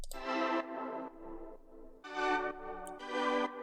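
Synth chords pulsing in and out under a sidechained volume, with a slow filter sweep gradually opening the tone for a building 80s-style effect, moderately quiet, with no voice.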